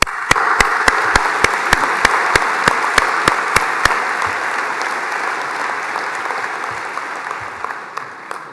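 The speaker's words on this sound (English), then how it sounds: "I think that deserves our first big round of applause" A graduation ceremony audience at City of Glasgow College gives a sustained round of applause, dense crowd clapping continuing steadily throughout, with a run of sharp, evenly spaced loud claps standing out at the start.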